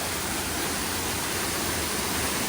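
Somtirtha waterfall, in monsoon but with a reduced flow, roars as a loud, constant wall of rushing water, close and unbroken from start to finish.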